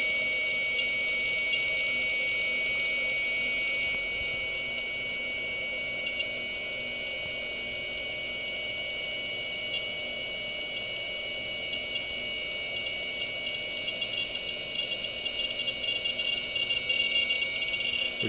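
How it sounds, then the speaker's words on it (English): A continuous high-pitched alarm buzzer on a power supply in an ultracapacitor UPS drones without pause, steady and fairly loud over a faint low hum. "the alarm is sounding on the power supply"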